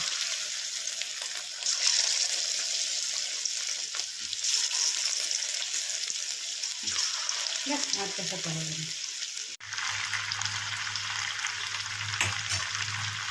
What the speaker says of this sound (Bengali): দিয়ে এগুলোকে ভালো করে কোটিং করে ভেজে নেবো তেল গরম হয়ে গেছে